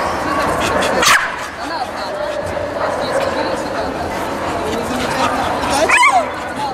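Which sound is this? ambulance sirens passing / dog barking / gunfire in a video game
dog barking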